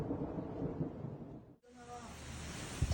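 Thunder rolls from lightning striking the Mecca clock tower in a storm, a loud broadband rumble that cuts out abruptly midway, then resumes as steady storm noise with a faint tonal hum.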